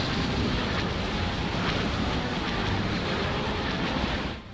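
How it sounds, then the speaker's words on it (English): TIE Bomber engine noise in a Star Wars space-combat game mod, a steady, loud, broadband roaring hum that holds evenly throughout and cuts off abruptly at the end, with no talking. "you can hopefully hear that the TIE Bomber engine noise here is significantly different than it was before"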